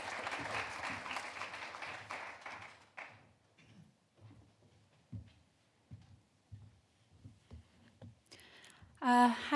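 A lecture audience applauds to welcome a speaker, the clapping dense at first and then thinning into scattered claps before fading out.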